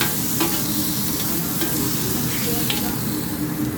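Food with sauce frying in a pan, a loud, steady close sizzle with occasional stirring scrapes and no talking.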